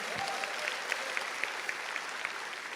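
A youth camp audience applauding in a hall, a dense steady wash of clapping with a few sharper individual claps standing out, moderately loud and continuous with no talk over it.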